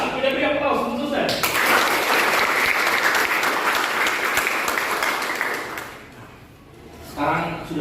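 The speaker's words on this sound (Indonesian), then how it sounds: "Maka kita beri aplaus untuk saya" Audience applause at a Catholic church teaching session, a dense burst of clapping that swells, holds steady for several seconds, then fades, with a voice speaking briefly before and after.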